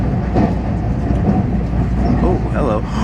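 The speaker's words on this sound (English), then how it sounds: "Is that the around the island train?" Taiwan's around-the-island train rumbles past close by with a steady, loud rail roar and low clatter, while people talk over it.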